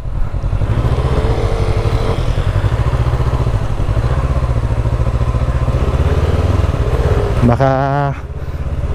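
Motorcycle engine running steadily and loud throughout on a mountain road in the Sierra Madre, between Dingalan, Aurora and DRT, Bulacan, with a voice talking over the constant drone.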